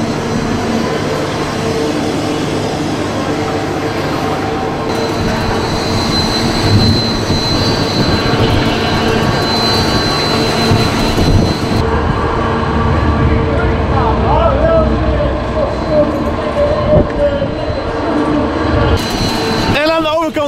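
Motors of an amusement park ride running during a ride, a loud continuous mechanical roar and whine that shifts in pitch, with people talking over it.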